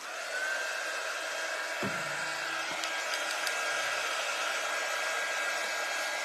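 A hair dryer runs steadily and loudly throughout, blowing on freshly painted craft pumpkins, its constant whir holding an even level with a few faint knocks and handling sounds underneath.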